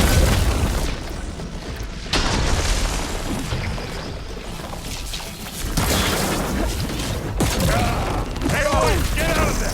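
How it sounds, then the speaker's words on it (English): Explosive blasts and heavy booms in the video game Horizon Forbidden West go off during a loud, chaotic machine battle, with crashing debris and mechanical clatter layered over speech throughout. "now's a good time to hit it with the blast. It's gonna explode"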